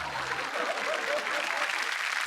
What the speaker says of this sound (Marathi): चला एकदम जोरदार टाळ्या द्या.